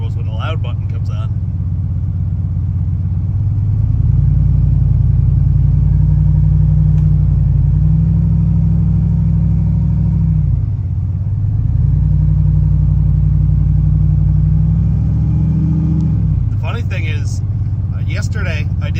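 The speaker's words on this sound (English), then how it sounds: "Really hear the turbos when the loud button comes on." Turbocharged car with the exhaust cutout open, driving on a frosty morning: loud, deep engine drone that swells and eases in long pulls, with turbo whistle, and people talking at the start and end.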